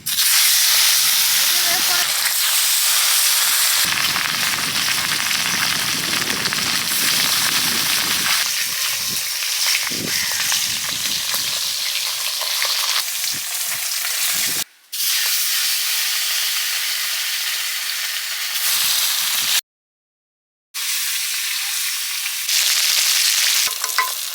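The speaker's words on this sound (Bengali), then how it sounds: "মাছ ভাজা হয়ে গেছে" Katla fish belly pieces fry in oil with a loud, continuous hiss and sizzle up close, broken by a couple of brief dropouts.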